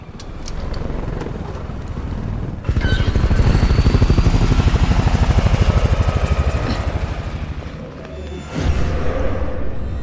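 A helicopter in the video game Resident Evil 6 throbs loudly and close, its rotor chopping in a fast steady pulse that swells in, holds, dips briefly and then returns.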